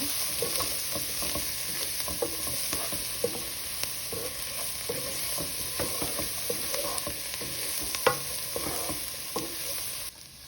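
Creamy potato soup is stirred in a pot after black pepper goes in: repeated scraping and knocking strokes over a low, constant bubbling hiss for about ten seconds, no voices.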